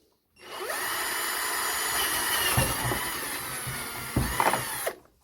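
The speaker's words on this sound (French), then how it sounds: "J'ose pas percer trop fort parce que j'ai pas envie de tout défoncer." Drill boring slowly and steadily through a board beneath a PECO model railway turnout, one continuous close whine lasting several seconds with a brief bump in load near the end, no talk.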